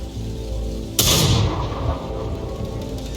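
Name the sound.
Sexton artillery gun firing in World of Tanks video game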